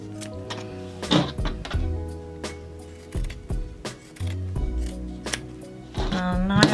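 Scissors cut through hoodie fabric to shape rib cuffs, making a series of close, crisp snips and slides in uneven bursts, with some fabric handling between the cuts.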